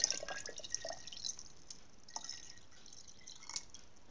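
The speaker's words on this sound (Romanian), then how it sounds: "Și peste o să punem apă rece." Cold water is poured over fruit and cloves for a compote, producing faint, soft trickling and dripping splashes in a quiet kitchen.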